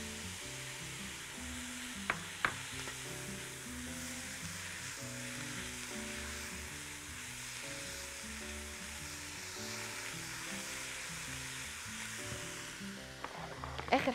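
Carrots go into a pan of sizzling vegetable stir-fry alongside meat, chicken or shrimp, giving a steady, loud frying hiss throughout with a few brief clatters of utensils near the start and end.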